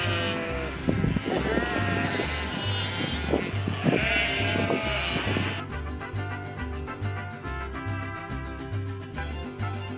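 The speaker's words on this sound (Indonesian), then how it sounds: "Ketika mereka terpisah dengan kelompok domba lain, maka akan mengeluarkan suara untuk mencari kelompoknya." A sheep separated from its flock bleats repeatedly, loud and close, its wavering calls standing alone without talk.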